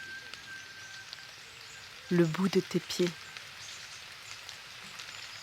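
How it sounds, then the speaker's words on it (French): Rain patters in a soft, steady hiss throughout, while someone speaks a short phrase in French over it. "La pluie tapote tes épaules,"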